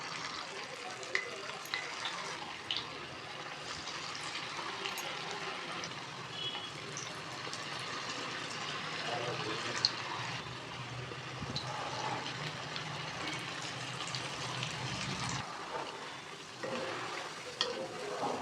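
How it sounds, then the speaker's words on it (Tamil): Broccoli florets deep-frying in hot oil for broccoli 65, a steady bubbling sizzle with soft crackles and occasional stirring, fairly quiet and continuous. "இப்போது எண்ணெய் நல்லா காயுது. இந்த நேரம் ஒன்று ஒன்றா போட்டு எடுக்கலாம்."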